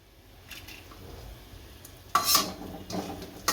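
Cashews and almonds frying in oil in a pan for churma ladu, a quiet background sizzle broken by a few sharp clinks and scrapes of a spoon stirring the nuts.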